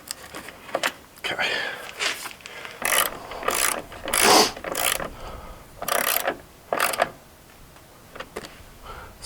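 Rapid ratchet clicks in short bursts while bolts are snugged down during an Oracle Lighting projector headlight install on a Jeep Wrangler, the clicking close and sharp with pauses between runs.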